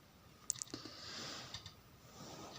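Computer mouse clicks sound while a drawing app is used: a couple of sharp, close clicks near the start, then a quiet faint hum with a few soft taps afterward.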